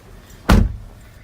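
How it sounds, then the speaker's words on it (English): A single solid door shut on a 2017 Ford Explorer Limited SUV, one close, heavy thud with a brief low rumble, alone without talk. "let me shut the door real quick"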